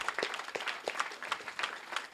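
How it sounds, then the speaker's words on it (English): Scattered clapping from an audience thanking young presenters, fairly faint and sparse with distinct individual claps. "a round of applause for their presentations"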